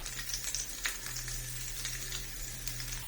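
Ginger garlic paste frying in a pan over a medium gas flame for chicken roast gives a soft, steady sizzle with faint stirring scrapes throughout, quiet and close, with no talking.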